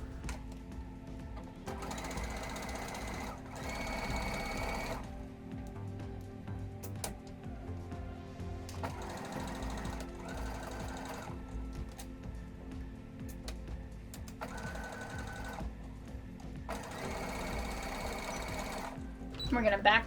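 A sewing machine stitches a quarter-inch seam through sherpa and minky plush fabric in several bursts of close mechanical whirring separated by pauses, with a person speaking throughout.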